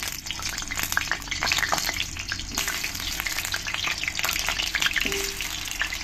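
Sliced potatoes fry in hot oil in a pan, a steady close crackling sizzle with brief stirring scrapes running throughout.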